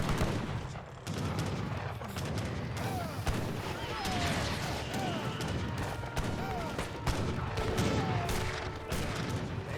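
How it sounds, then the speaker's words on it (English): Cannon and musket fire from an Age of Empires 3 battle, with falconets, culverins and rangers shooting; dense overlapping volleys of bangs and booms run continuously throughout, loud and busy, with no one speaking. "Falconets firing away, getting some decent damage on those Costadors. Rangers firing away."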